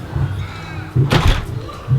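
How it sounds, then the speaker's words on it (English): A house door fitted with a new weather seal along its bottom swings shut with a single firm thud and a brief rush as it closes, set between quieter handling sounds and a low hum. "Shut that and it seals well."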